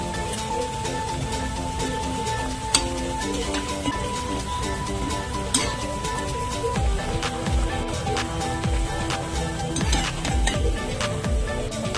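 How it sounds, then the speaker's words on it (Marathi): Leftover chapati pieces frying in hot oil give a steady close sizzle, with occasional scrapes and taps of a utensil in the pan. "एवढा अशा प्रकारे रंग बदलेपर्यंत आपल्याला तळून घ्यायचे"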